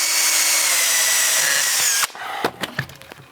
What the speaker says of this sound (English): We gotta drill one more hole in the back.